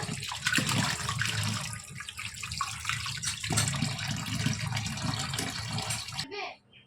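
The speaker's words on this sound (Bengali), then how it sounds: "সবগুলো একটা একটা করে ভালো করে ধুয়ে নেবো।" Fish being washed one by one in water: close splashing and running water with handling noises that continue steadily, then cut off abruptly near the end.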